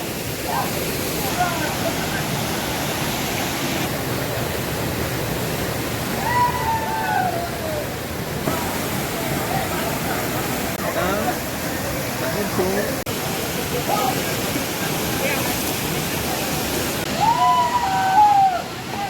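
The famous Canacona waterfall in Goa roars in a constant, broad rush of falling water that fills the whole scene, with people's voices faintly mixed in.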